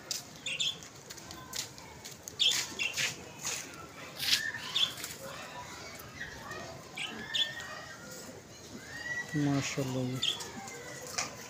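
Pigeons in a loft make soft cooing calls and flutter their wings, with chirps and rustling scattered across the scene while someone speaks briefly nearby.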